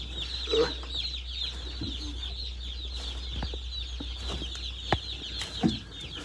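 A dense, continuous chorus of high peeping from a brooder full of baby chicks fresh from a Michigan hatchery, steady throughout with a few louder thumps and handling noises close by.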